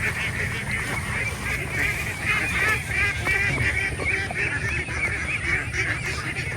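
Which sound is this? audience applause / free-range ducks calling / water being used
free-range ducks calling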